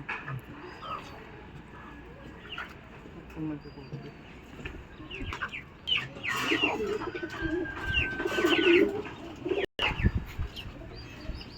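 Pakistani High Flyer Teddy breeding pigeons coo and murmur in a low, rolling way, with a few chirps and some background chatter and handling noise throughout.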